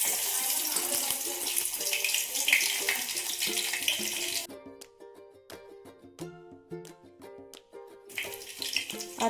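Garlic tempering sizzling in hot oil for a Maharashtrian raw mango curry: a steady, dense crackling hiss that breaks off midway, leaving faint kitchen clinks, then returns briefly at the end.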